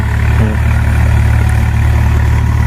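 A farm tractor's engine runs at a steady idle outdoors, a loud, close, low mechanical rumble with a constant throb and no voices.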